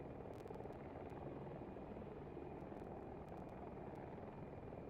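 A transport helicopter in a video game gives off a steady, dense rotor-and-engine drone, continuous and fairly loud with no break.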